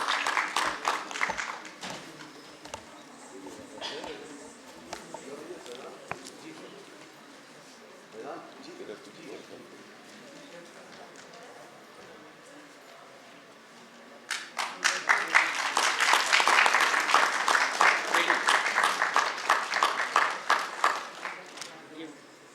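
A hall audience at a stage play claps loudly to welcome a guest, a dense burst of applause lasting several seconds that follows a woman's announcement over a quieter room.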